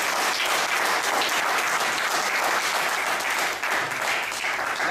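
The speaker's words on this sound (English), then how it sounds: "Give a round of applause" Steady, dense applause from a meeting audience welcoming new members at a Toastmasters club gathering, continuous and fairly loud throughout with no pauses.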